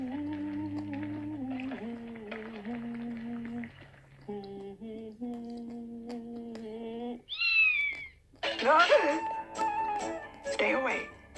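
A cat meows, a few rising, squealing cries heard near the end, following a stretch where a person talks and sings over a quiet room.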